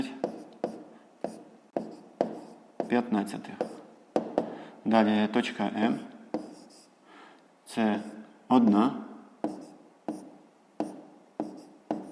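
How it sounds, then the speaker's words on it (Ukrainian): Pen scratching on paper in short, repeated strokes while an answer is written out by hand during a fifth-grade maths exercise, with a teacher's voice talking over much of it. "Пишемо відповідь."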